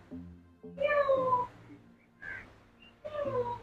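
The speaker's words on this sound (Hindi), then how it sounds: "ओ बिल्ली किड्डी वड्डी आ" A cat at Lahore Zoo gives several loud, drawn-out meows with short pauses between them, close by and clear, with no talking over them.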